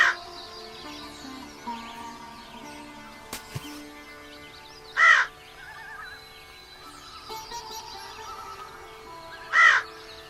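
A crow caws twice, well apart, each a short harsh call standing out against a quiet musical background in an animated children's story.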